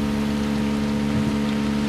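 Boat engines droning in the open-world shooter Ghost Recon Wildlands, a loud steady low hum with a continuous wash of noise throughout and no talking.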